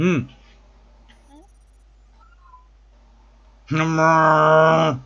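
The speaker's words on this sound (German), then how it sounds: "Das ist eine Katze." A synthetic-sounding cat in the video game Wildstar gives a short meow, then after a quiet stretch lets out a long, loud, drawn-out yowl; a person murmurs briefly.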